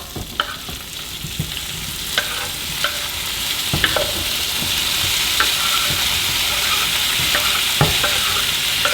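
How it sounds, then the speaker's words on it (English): Ingredients frying in a little olive oil for a rice dish with freshly caught river fish, a steady close sizzle broken by occasional stirring clicks and scrapes, no speech. "take a little olive oil, not much, and throw everything in, let it start cooking down"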